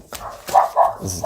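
Several quick dog barks sound from a distance in the background, a couple of them louder than the rest.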